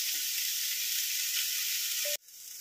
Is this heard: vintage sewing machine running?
no